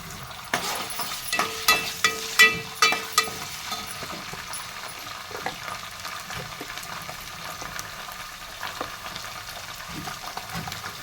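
Ginger-garlic paste frying in oil in a pot, a soft continuous sizzle with a cluster of clinking utensil knocks early on, then quieter bubbling and light stirring, close by.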